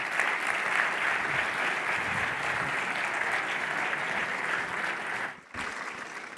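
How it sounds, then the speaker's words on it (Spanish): Audience at a Spanish government presentation applauds the minister, a steady wash of clapping from a seated crowd that dips briefly before resuming at a lower level. "Un aplauso para él."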